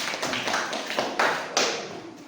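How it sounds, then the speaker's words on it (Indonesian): Scattered classroom applause from students after a group presentation, a few loose, uneven claps with some louder individual hits, fairly close and brief. "Tepuk tangan."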